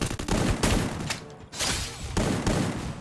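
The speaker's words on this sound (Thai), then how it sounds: "อะไรนะเพื่อนมันยิงเข้าหัว" Gunfire rattles through a Free Fire match in dense, repeated bursts of rapid shots, loud and close, with only brief gaps between the volleys.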